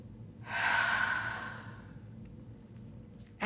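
One slow, deep breath, a long airy inhale that fades into a gentle exhale, close and quiet in a calm guided meditation setting, with a short sharper breath at the very end.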